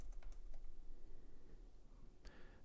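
Computer keyboard keys tapped in a short, quick run of crisp clicks while entering a spreadsheet formula, close and fairly quiet, then one last keystroke after a pause.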